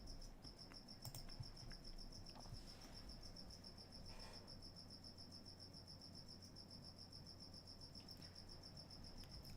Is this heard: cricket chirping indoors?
yes